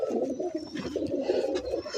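Teddy pigeons cooing close by, a continuous low, throaty murmur of overlapping coos lasting about two seconds, with no talk over them.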